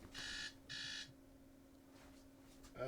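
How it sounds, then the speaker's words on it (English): An alarm beeps in two loud bursts of rapid electronic tones, each about half a second long, followed by quiet room tone. "why is my alarm going off?"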